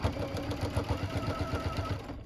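Sewing machine stitching a fabric lining seam, a steady rapid mechanical chatter of the needle running continuously at close range with no talking.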